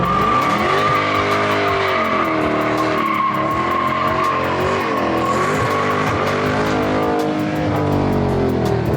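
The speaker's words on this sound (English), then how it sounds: "Drifting a little faster than Furious style." A Dodge Hellcat Charger drifting, its engine roaring loud and sustained with shifting revs while the tires squeal continuously, close by for the whole stretch.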